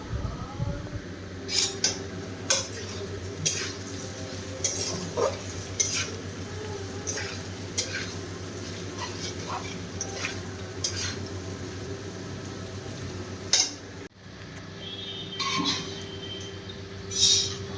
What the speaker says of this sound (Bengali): যেখানে মটনের ঝোল ফুটছে